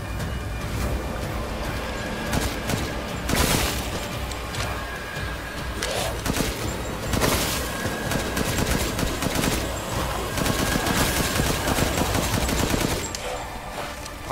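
Sustained video-game gunfire: long stretches of rapid, rattling shots and heavier bursts, loud and close, with brief gaps between volleys.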